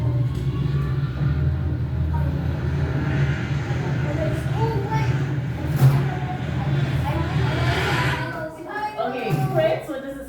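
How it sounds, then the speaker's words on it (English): A recorded airplane plays in a second-grade classroom as a steady, droning engine roar that fills the room for several seconds, with a few voices faintly audible toward the end. "It's an aeroplane."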